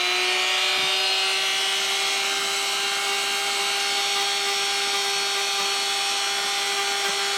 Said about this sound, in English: So we do this again with the rotary tool and using a little burnishing attachment.